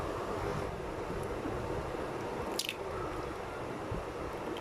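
Raw chicken pieces for popcorn chicken being mixed by hand with a cracked egg, soy sauce and white vinegar, giving a steady wet squishing and dripping close by with no talk.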